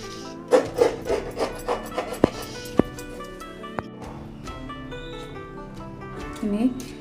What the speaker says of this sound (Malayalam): ഇനി ചെറിയ പീസുകളായിട്ട് മുറിക്കാം.